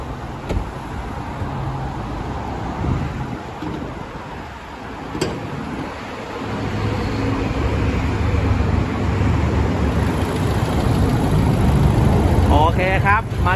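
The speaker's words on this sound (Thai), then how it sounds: "สตาร์ทเครื่องได้เลยนะครับผมจะได้ฟังเสียงเครื่องนะครับว่าเพราะขนาดไหนนะครับ ติดแล้วครับ" A 2016 Mazda 3 Skyactiv 2.0-litre petrol engine with automatic gearbox runs at a steady idle after starting, a continuous close rumble that grows slightly louder midway, with faint background voices.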